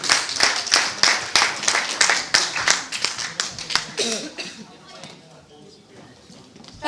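Wedding party guests at a civil wedding celebration clap for a pastor in a sustained burst of applause that thins and fades out after about five seconds, leaving quieter room sound with faint voices.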